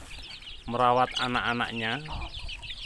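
Backyard chickens cluck and call in a short, close burst, with a person speaking in Indonesian over and around them.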